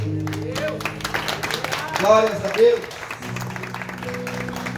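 A church congregation applauds during a sermon, with a steady dense patter of clapping beneath shouted praise and raised voices that swell briefly in the middle.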